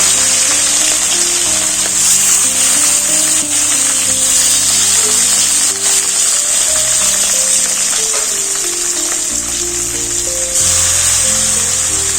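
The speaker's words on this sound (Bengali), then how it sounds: "এইদিকে মাছ ভাজা হচ্ছে" Steady loud sizzling of fish frying in hot oil, continuous and close, with no voices.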